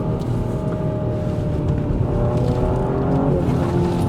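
A BMW X7 SUV drives under acceleration, its engine giving a steady, loud, close droning hum with rising tonal pitch over constant road noise, no voices.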